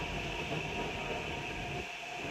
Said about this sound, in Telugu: మెట్రో స్టేషన్లో ఉన్నా.